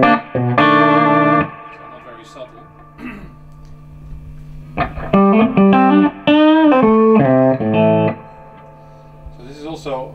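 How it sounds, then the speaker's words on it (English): Two Rock guitar amplifier played through a gritty, noisy spring reverb in the style of an old Fender, with loud sustained chords and note runs ringing out between gaps, a washy distorted tail hanging after each phrase. "it gives a more gritty sort of reverb. Like an old Fender noisy reverb."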